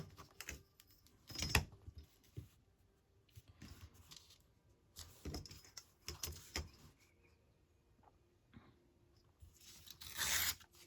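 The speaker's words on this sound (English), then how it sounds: "And I need to tear this." Paper for a journal page spread is torn in short, close ripping bursts, separated by quiet gaps and small handling rustles, ending in a louder final tear.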